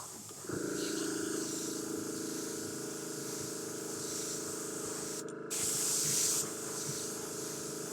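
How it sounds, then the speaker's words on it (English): An airbrush sprays a light first mist of primer over flame stencils, a steady near hiss that starts after half a second and runs throughout, briefly louder toward the end. "Then I'm going to lightly mist the first layer."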